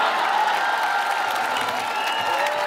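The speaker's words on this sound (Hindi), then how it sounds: "और तालियां तो अब उठेंगी" A college festival audience breaks into loud, sustained applause mixed with crowd noise and a few scattered cheers, filling the hall evenly for the whole moment.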